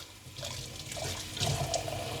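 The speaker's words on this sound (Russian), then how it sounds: "И заливаю теплой водой." Warm water pours steadily into a small jar, a continuous splashing, gurgling flow with a brighter burst near the end, close and alone.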